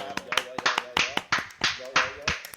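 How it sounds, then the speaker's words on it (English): A small group gives a slow, uneven round of applause in a studio setting: about a dozen separate, fairly loud claps spaced out irregularly, with voices chattering over them. "Everybody give a slow round of applause."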